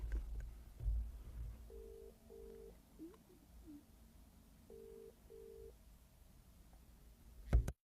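A phone call is placed: faint dialing clicks, then two pairs of ringback tones repeating several seconds apart, heard quietly with no answer before a sharp click ends it.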